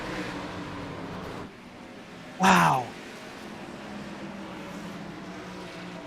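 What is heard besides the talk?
race car engine revving, tires spinning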